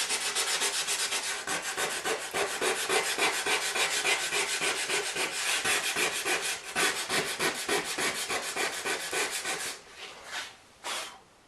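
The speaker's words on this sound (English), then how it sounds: "Just roughed up the epoxy a little bit." Sandpaper of 80 or 60 grit rubbing over cured epoxy in a steady, continuous scratchy rasp, close and fairly loud, stopping near the end with a few short final strokes.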